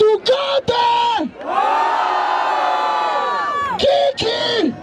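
A crowd at a Brazilian freestyle rap battle (Batalha da Aldeia, Barueri) roars, cheers and whoops in loud sustained shouts, dropping briefly between bursts.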